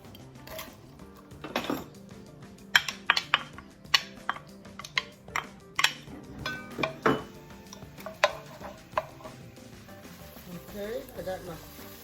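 Onions and garlic sauteing in a pan on a home stove, a soft steady sizzle beneath sharp clinks of a utensil against the pan, with scattered knocks and stirring.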